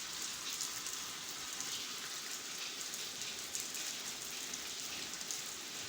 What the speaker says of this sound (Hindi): आज देखिए आज फिर बारिश हो गई है